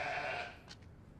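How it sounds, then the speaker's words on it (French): A single wavering sheep bleat, fairly close and faint, fading out within a second amid low background noise in a confined space. "Je rêve ou ce sont des moutons?"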